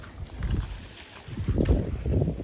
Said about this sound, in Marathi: बघू शकता बोट आले आपली. प्रायव्हेट बोट आहे आपली.